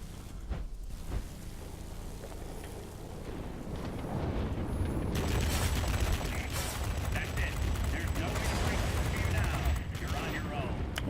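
Machine guns on a warplane in World of Warplanes fire in a dense, continuous rattling stream that grows louder and stays sustained over engine rumble, with a voice talking faintly underneath.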